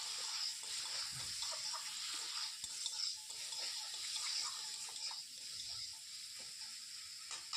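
Water runs and splashes steadily into a pan of cooked-down ground coriander and Kashmiri chili spice mixture for a soybean dish, a soft continuous pour with faint stirring clinks and no talk.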